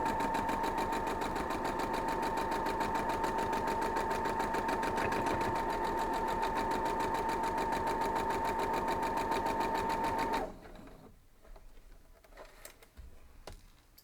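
A sewing machine stitches an Ohio star quilt block in a steady, close, rapid run for about ten seconds, then stops, leaving only faint handling noises.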